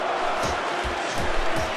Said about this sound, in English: Man, the cheers in here are deafening.